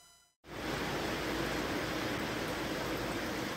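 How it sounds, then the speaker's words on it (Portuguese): Rain falling in Rio Grande do Sul, a dense steady hiss that starts abruptly after a short quiet moment and continues evenly at a moderate level. "Está chovendo lá."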